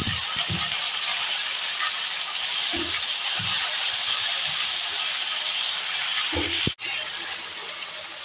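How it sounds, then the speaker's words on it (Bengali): Raw jackfruit pieces frying in hot oil in a wok over a high gas flame, a steady loud hiss and sizzle with a few soft stirring knocks and one sharp clack near the end. "এবার আমি এঁচোড়গুলোকে কড়াইয়ের মধ্যে ছেড়ে দেব।"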